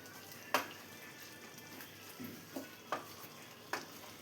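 Chicken perattu with coconut milk and garam masala being stirred in a pan: a few quiet, spaced scrapes of a spoon against the pan over a soft, low background.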